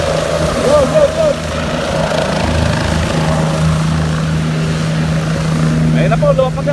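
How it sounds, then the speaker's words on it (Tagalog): A helicopter carrying Senators Bam Aquino and Kiko Pangilinan lands at a campaign event in Rizal, Nueva Ecija, making a loud, steady rotor and engine drone. A cheering crowd and an announcer can be heard over it. "Ayun na po, lumapag na po ang helicopter."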